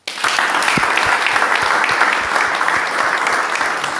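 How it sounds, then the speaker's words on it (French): A church congregation bursts into loud, close applause during a French-language service, many hands clapping in a sustained roar with a few sharp individual claps standing out. "Applaudissons au Seigneur."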